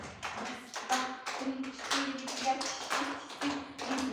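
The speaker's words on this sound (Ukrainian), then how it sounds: "Ви знову плескайте" Children clap their hands in a steady rhythm during a preschool music lesson, sharp repeated claps over faint tonal music or singing at moderate loudness.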